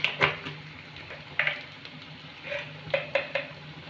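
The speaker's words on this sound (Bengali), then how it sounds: "নেড়ে নেব কচুগুলোকে" Taro pieces frying in oil in a pan are stirred, with scraping clinks of a utensil against the pan arriving in irregular bursts over a soft, steady sizzle, close and moderately loud.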